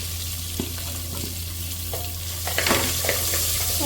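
Cumin, onion and tomato fry in a hot pan for kadhi, a steady close sizzle broken by a few clinks and scrapes of stirring that grow busier toward the end.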